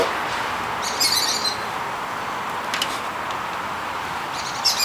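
A young kakariki parrot being hand-fed gives a few sharp, harsh alarm calls in short separated bursts over a steady background hiss.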